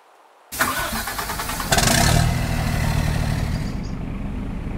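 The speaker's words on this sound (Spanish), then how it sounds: "vamos a encender el contacto, vamos a bajar la ventanilla y vamos a ver cómo suena" An old 1970s truck in Euro Truck Simulator 2 starts with an abrupt cranking burst, its engine catching into a loud, rough, rattling idle that settles into a steady low rumble, heard alone.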